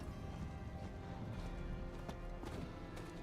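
A horse mount in Diablo 4 gallops with rapid, steady hoofbeats under a dense wash of game ambience, all at a moderate, even level.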